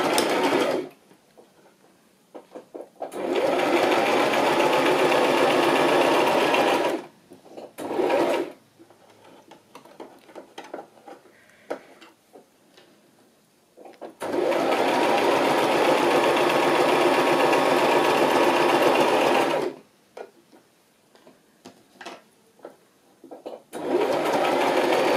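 A sewing machine stitches a fabric bag for a wedding journal, running in two long steady bursts separated by quiet pauses and short stops, with the back-stitch passes heard as brief runs, close and loud with no talk.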